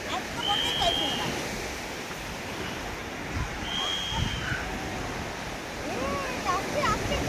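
Sea waves wash onto the beach at Puri in a continuous broadband roar with swelling surges, heavy wind buffeting the microphone, and faint voices mixed in.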